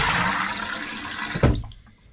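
A Dometic 310 RV toilet flushes with a loud, close rush of swirling water that fills the bowl for about a second and a half, then cuts off sharply and leaves a faint trickle.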